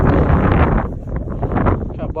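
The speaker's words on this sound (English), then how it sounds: "Try to block this wind out" Strong gusty wind buffeting the microphone on a windy day out fishing, a loud low roar that swells and eases, with a voice talking underneath.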